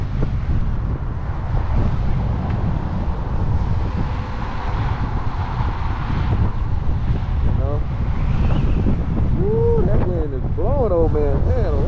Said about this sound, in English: It's a heavy wind.